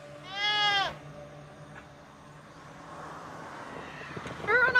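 Goats perched in an argan tree on a plantation bleat, one loud nearby bleat at the start and another rising at the end, with quieter rustling and background sound between.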